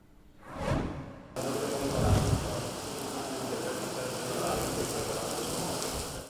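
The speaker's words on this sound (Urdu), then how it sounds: "طویل انتظار کے بعد لاہور میں ابر رحمت برس پڑی ہے" Steady rain falling in Lahore after a long dry spell and smog, a dense even hiss of drops on surfaces with a brief whoosh early on, no talking.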